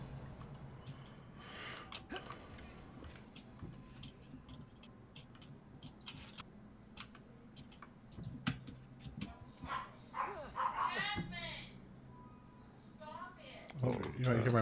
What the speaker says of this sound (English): whenever someone like stands up or starts to move around the house, she'll just start barking at you